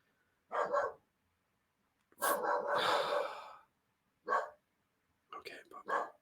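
A puppy gives short, close barks and yaps in separate bursts: one quick pair, a longer rough outburst, a single yelp, then a few sharp yips at the end.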